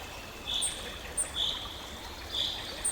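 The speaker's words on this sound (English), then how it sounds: "The sound of distant water stirs quietly among oleander leaves." Water flows softly in the distance among oleander leaves and palm branches, a faint steady wash with thin bird chirps popping up now and then above it.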